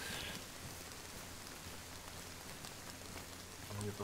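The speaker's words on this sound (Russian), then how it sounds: "Ну, сейчас дождь стихнет, мне кажется," Steady rain in the survival video game DayZ, a constant even hiss of falling drops that holds at a fairly soft level throughout, with no voices over it.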